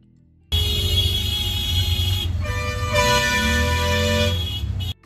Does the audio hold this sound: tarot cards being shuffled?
no